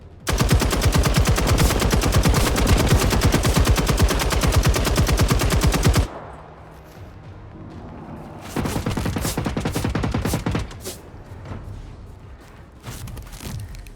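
Rapid machine-gun fire in a tank video game roars in a long dense burst, breaks off, then resumes in shorter bursts, loud and close with no speech.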